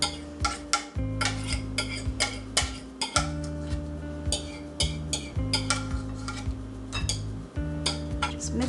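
A utensil clinks and scrapes around a bowl as banana muffin batter is stirred with vanilla extract and mashed bananas, with quick irregular taps and a faint steady musical tone underneath.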